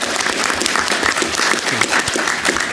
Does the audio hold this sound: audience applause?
yes